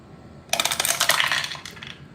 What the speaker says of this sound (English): Here go the 3 dice.